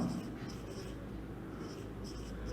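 Steady scratching of writing on a board during a classroom lecture, close and continuous over a low room hum, with no talk.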